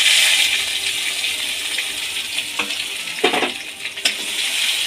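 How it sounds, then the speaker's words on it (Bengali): Chopped tomatoes frying in oil with cumin seeds and a bay leaf, giving a steady close sizzle that fades slightly, broken by a few sharp bursts as the pan is stirred. "জিরেটা ভাজা হয়ে যাওয়ার পর আমি কেটে রাখা টমেটো দিয়ে দেব।"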